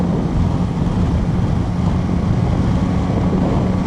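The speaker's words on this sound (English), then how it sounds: "there's still some wind hitting me" Steady, loud wind roar buffeting a rider on a Yamaha Tracer 9 GT Y-AMT motorcycle at speed, a dense broadband rush filling the whole stretch with no talking.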